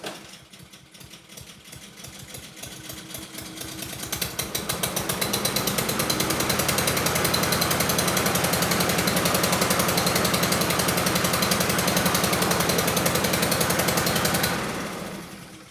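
Lawn mower engine pull-started after a pull cord replacement: a few sputters, then a loud, steady, close engine drone running for about ten seconds before it winds down.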